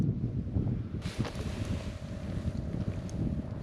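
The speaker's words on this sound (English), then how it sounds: "Much windier today." Strong gusty wind buffets the microphone out on a frozen lake during winter ice camping, a steady low roar with a brief sharper gust, no voices.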